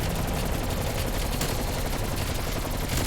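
Dense, rapid automatic gunfire from the video game Call of Duty Cold War, a continuous rattling burst of shots filling the whole moment at close range with no talking over it.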